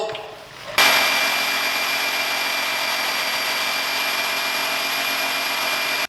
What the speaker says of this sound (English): Last step, metal polish.